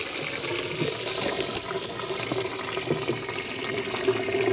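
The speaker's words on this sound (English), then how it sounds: "you can kind of hear that distinctive water going down a hose kind of sound" Water rushes steadily through a hose into a tank, a continuous hollow gurgling flow with no pauses, fairly close and even in loudness.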